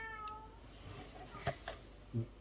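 A cat meows a few times, short calls rising and falling with brief gaps between them, fairly close and clear over a quiet room background.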